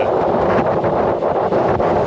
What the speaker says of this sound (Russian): Ну, здесь прям ветрено очень сильно.